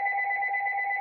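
A phone ringing with a steady electronic two-tone warble, close and even, heard alone.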